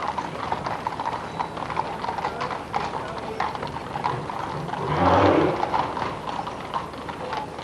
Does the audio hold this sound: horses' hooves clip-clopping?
yes